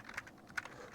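A computer keyboard is typed on with a few quick, light keystrokes, two of them sharper than the rest, close by and quiet, with no voices.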